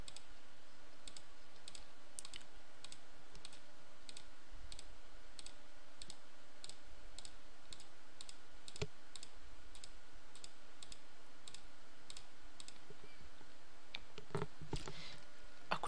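Steady, evenly spaced computer mouse clicks tick through a quiet room, joined near the end by a denser flurry of clicks and scroll-wheel movement while zooming in an image-mapping web tool; no voices.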